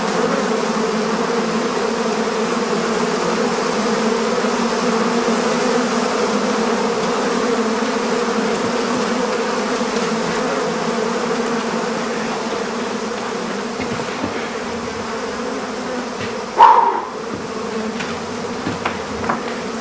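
A dense, continuous buzzing of a swarm of angry bees, steady and loud throughout, with a brief louder bump near the end.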